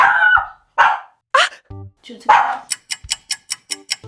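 A dog barks nearby, a few separate woofs followed by a quick run of sharp, rhythmic yaps.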